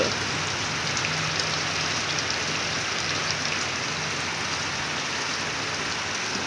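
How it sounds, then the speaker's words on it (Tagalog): Steady rain pours outside a house, a dense, even hiss of drops on surfaces that holds at the same level throughout with no voices. "Maulan."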